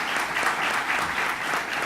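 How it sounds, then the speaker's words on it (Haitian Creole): Brief burst of steady applause from a small crowd, evenly sustained clapping heard close and alone without talk, honoring the Port-au-Prince city hall. "nous battons un gros bravo pour mairie de Port-au-Prince"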